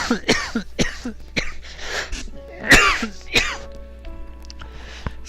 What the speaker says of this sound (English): Excuse me for the coughs.